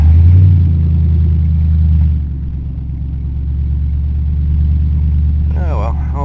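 A 1988 Ford Crown Victoria that runs poorly and smokes idles with a loud, steady low rumble. The engine note drops and settles after about two seconds, and a voice comes in near the end.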